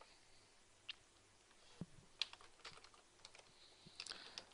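Quiet typing of a password on a computer keyboard, with a few scattered soft key taps and clicks heard close up against a faint, near-silent background.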